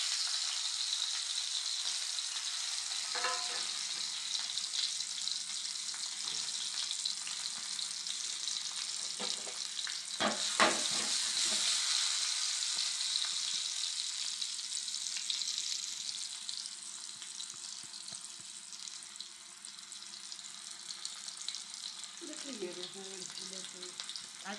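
Onions fry in a heated pan for a homestyle Kerala squid curry, giving a continuous close sizzle with occasional clatters of stirring and a brief rattle near the end.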